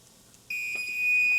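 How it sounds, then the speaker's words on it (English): Kitchen timer alarm going off while tofu fries without oil, a sudden loud continuous electronic beep starting halfway through and holding steady over faint kitchen background. "The timer is going to come off."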